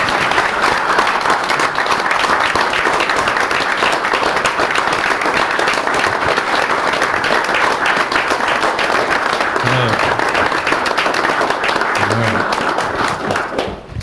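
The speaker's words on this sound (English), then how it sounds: "Please join me in giving these folks a round of applause." A long, loud, even round of applause from the audience at a city council meeting honoring a group of people, dense clapping sustained for about fourteen seconds before fading slightly at the close.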